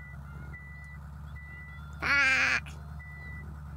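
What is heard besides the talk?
bus reversing warning beeps in Night Bus video game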